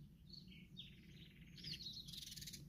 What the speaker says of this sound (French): Avec le chant des petits oiseaux et le calme ambiant,